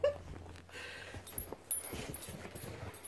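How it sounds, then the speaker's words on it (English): A dog whimpers and yips in a home while harassing the household cats, giving short, fairly faint cries over background noise. "As you can tell, the dog likes to torture them."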